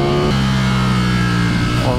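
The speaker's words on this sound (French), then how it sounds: "On est au guidon de la Street Fighter V4 S" The Ducati Streetfighter V4 S engine drones on board while the bike is ridden, a close, steady engine hum with a brief shift in pitch near the start.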